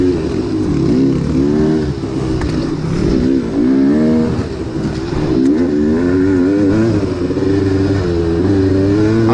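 Vintage motorcycles racing at an AHRMA event in Frackville, their engines loud and close as they rev hard, rising and falling through gear changes with a continuous rasping drone.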